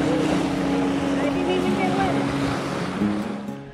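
Water rushes through a rapids wave train on the San Juan River during a rafting trip, a loud churning splash over a low rumble, with people speaking over it.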